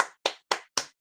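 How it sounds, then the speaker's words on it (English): Four sharp hand claps in an even, quick rhythm from a studio audience on a morning radio-style show, close and crisp, each ringing briefly before the next, with no talk over them. "come on, let's clap."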